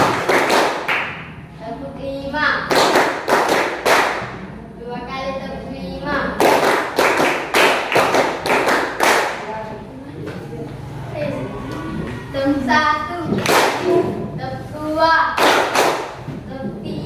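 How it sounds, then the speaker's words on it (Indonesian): A group claps in a counting clap game, with bursts of sharp, rhythmic claps in short sets between spoken instructions and voices that include children. "Tepuk 1, tepuk 2, tepuk 3, tepuk 4."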